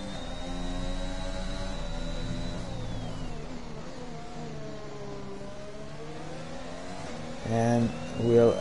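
Race cars running side by side in a sim racing league event at the Portugal circuit, steady engine drone with rising and falling pitch through a fast right-hander, a commentator's voice over the top.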